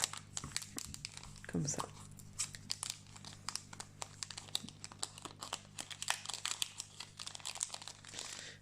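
A Rise TCG Candypocalypse trading card booster wrapper is cut open and crinkled up close, giving a dense run of small crackling, tearing rustles, while a person speaks briefly in French.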